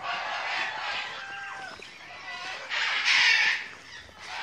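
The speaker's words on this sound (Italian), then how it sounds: "Qui altre galline." Hens at an animal shelter cluck and squawk close by, their calls overlapping in uneven bursts, with a louder squawking flurry partway through.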